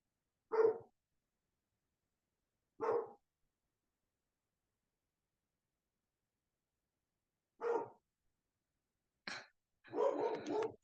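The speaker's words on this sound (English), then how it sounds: "I'm so sorry if you hear my dog." A dog barking at home, five separate single barks spread out with long silent gaps, the last ones a little rougher and more drawn out, heard at a moderate distance with no talking.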